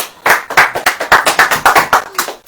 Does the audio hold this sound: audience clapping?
yes